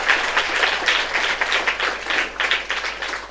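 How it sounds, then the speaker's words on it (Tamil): Applause from a temple audience at a kumbhabhishekam gathering, honoring nadaswaram musicians; steady, dense clapping throughout, moderately loud with no clear talk over it. "இந்த நாதஸ்வர கலைஞர்களுக்கு ஒரு கைத்தட்டு கொடுங்க சார்"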